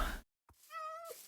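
Cat meowing in the video game Urban Sprawl: after a loud opening burst and a short silence, one drawn-out tonal meow rises and holds before ending with a small chirp, clear and fairly close.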